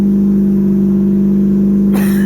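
A 12A turbo rotary engine in a Datsun 1200 idles steadily at about 1400 RPM with a loud, even low hum and a slight buzzing edge, close to the microphone.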